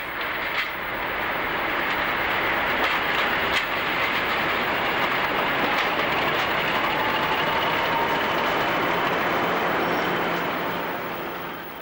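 Diesel locomotives 50.050 and a Class 33 run together toward the Cornish terminus after refuelling at Long Rock, a steady engine drone and rolling rail noise holding at an even level before easing off at the end.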